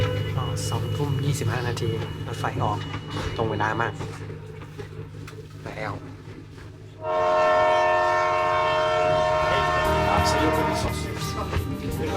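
A train in Laos rumbles along while people talk nearby, then a loud, sustained horn blares for several seconds over the rolling noise.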